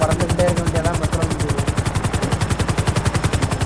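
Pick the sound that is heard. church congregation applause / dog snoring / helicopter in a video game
helicopter in a video game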